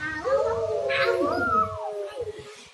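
A voice imitates a wolf howl, a single drawn-out rising and falling wail lasting under two seconds, close and clear, fading into a few soft breathy sounds.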